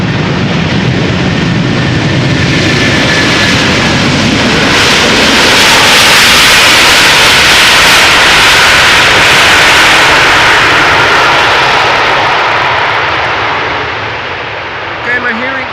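A Delta Airlines jet airliner roars past at Schiphol during a rain shower, an overwhelming continuous broadband blast that swells and holds before easing off at the end, very close and loud.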